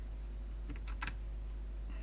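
A few quick, quiet keystrokes on a computer keyboard, a short cluster of taps over a low steady hum, with no speech.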